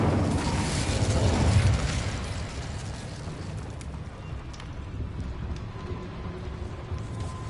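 A fire spell cast in Hogwarts Legacy bursts out as a loud roaring whoosh, swelling over the first two seconds and then settling into a steady crackling, windy rumble.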